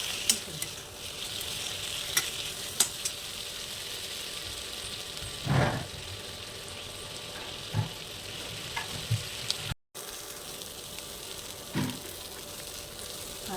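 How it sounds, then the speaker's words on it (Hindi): Tomatoes fry in a kadai for kadai paneer, giving a steady soft sizzle with occasional scraping strokes of a spoon stirring the pan, close and continuous with no talk. "टमाटर फ्राई हो गया है"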